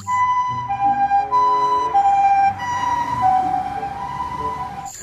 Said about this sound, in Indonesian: ini mobil ambulans